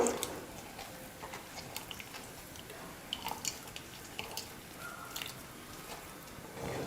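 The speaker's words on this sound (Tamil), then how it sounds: "இந்த மாதிரி வடிகட்டி யூஸ் பண்ணி நீங்கள் தேங்காய் பால் எடுத்துடலாம்." Thick coconut milk dripping through a strainer in a home kitchen while making payasam, quiet scattered drips and small ticks spaced irregularly over faint background hiss.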